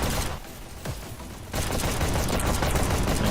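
Dense gunfire from a VR shooter esports match between L1FE and UNSC, a steady barrage of rapid shots and bursts that dips briefly, then swells back loud and continuous.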